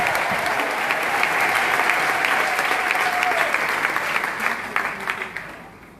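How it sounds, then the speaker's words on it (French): A church congregation at Mass applauds loudly and steadily, a dense wash of clapping from a crowd that holds strong for several seconds, then thins and fades out at the end. "Et puis on acclame très fortement le Seigneur."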